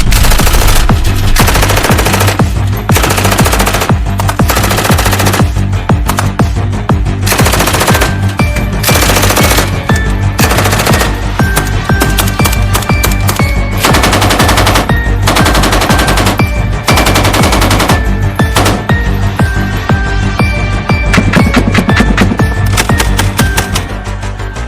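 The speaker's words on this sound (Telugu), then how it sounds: "ఆ రోబో షార్క్ లోపల నుండి సారా బోట్స్ పైన షూటింగ్ స్టార్ట్ చేస్తుంది." Heavy machine gun fire from a robot shark shooting at boats in an action film, loud sustained bursts that repeat throughout, broken by brief pauses and layered with dense crackling and booming effects.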